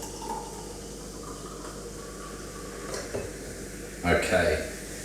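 Homemade elderflower cider poured from a bottle into a glass, a short burst of splashing liquid near the end after quiet room tone.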